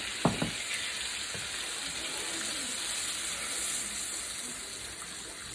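About half a cup of water pours steadily into a hot pan of lemon butter chicken with a soft, continuous hissing sizzle, preceded by a couple of faint clinks.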